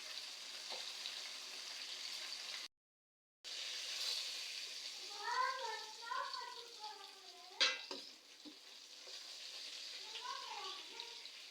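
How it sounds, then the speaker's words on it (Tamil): Steady hiss of fish frying in a pan, with a brief dropout early on, a few utensil clicks and faint voices murmuring in the background. "மீன் பொரிச்சது வந்து நல்லா அடுப்பில் வெந்துட்டு இருக்குது"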